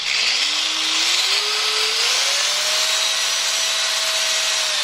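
A Metabo 4.5-inch angle grinder runs at its lowest speed setting, 1, with a steady motor whine that steps up slightly in pitch as it spins up, continuous and close with no talking.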